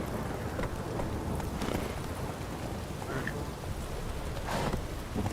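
Roach, the horse in The Witcher 3, gallops with a rhythmic hoof clatter over rushing wind-like ambience, a few faint voice fragments and effects mixed in.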